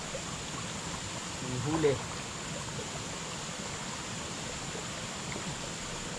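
River water flowing steadily in a soft, continuous broadband rush, with a brief murmur of speech near the start over the constant stream noise.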